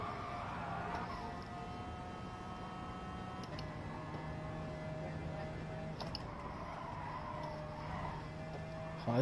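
Tyres skid and squeal under a car understeering through a corner in Gran Turismo Sport, a steady high whine running the whole time over constant engine drone, with brief gear-shift breaks.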